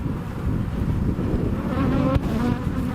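Honey bees swarm and buzz around an open beehive full of stored pollen, a loud, dense, continuous hum close to the listener, with a brief knock partway through.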